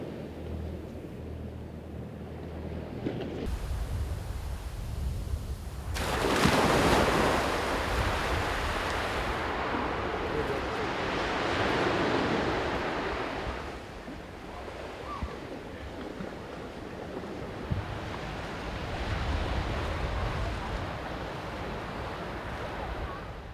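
Surf rolling onto a beach near Rockhampton, a continuous broad wash of breaking waves with wind buffeting the microphone, swelling and easing across the scene.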